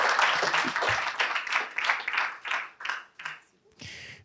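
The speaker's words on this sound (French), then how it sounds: "On peut les applaudir." An audience at a French business workshop applauds the speakers, a burst of clapping that thins into scattered claps and fades before a final short flurry.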